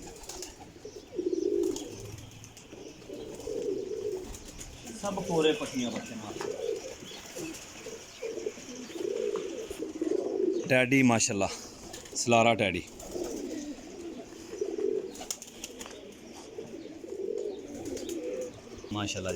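Champion flying pigeons, including Kasuri cross and Sialkoti birds, coo softly and repeatedly in the background while someone talks over them almost throughout, with a few sharper calls or wing sounds around the middle.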